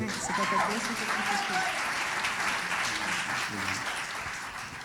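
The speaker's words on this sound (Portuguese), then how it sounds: "Salve de palmas para minha pastora." A church congregation claps together, a steady broadband wash of applause lasting throughout, with faint voices and a brief sung or spoken tone mixed in underneath.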